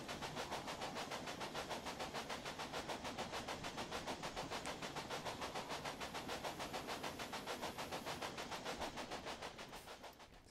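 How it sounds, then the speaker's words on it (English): A train running along track in the Railway Empire video game, with a steady, fast clickety-clack of wheels over rail joints and a constant rumble, sustained and fairly loud before tapering slightly at the end. "the train behind us will eventually take that track round and over the bridge"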